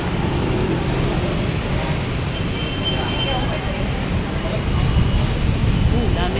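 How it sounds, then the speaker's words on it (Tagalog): Heavy road traffic on EDSA near SM North in Metro Manila, a steady dense roar of cars, buses and trucks close by, continuous for the whole stretch and slightly louder toward the end, with people talking faintly in the background. "Tingnan yung traffic guys."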